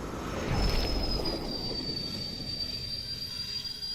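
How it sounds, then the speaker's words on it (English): Train passing in a VR video game, a steady rumbling roll of wheels with a long, high metallic squeal running throughout, loud and close, with no voices. "Ooh, train."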